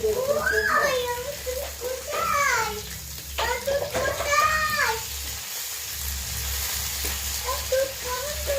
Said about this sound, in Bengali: এর মধ্যে ভাজছি, এটা মধ্যে ভাজলে ভাজাটা ভালো হবে।